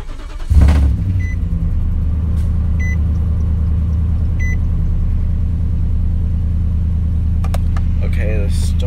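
A Nissan Titan truck with clogged catalytic converters cranks and fires up, then settles into a steady low idle rumble that runs on, with a few faint clicks and brief sounds over it.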